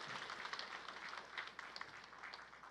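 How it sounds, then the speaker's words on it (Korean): A church congregation at a combined all-generations worship service claps together, a dense sustained round of applause lasting the whole stretch, moderately distant and even. "다시 한번 큰 박수로"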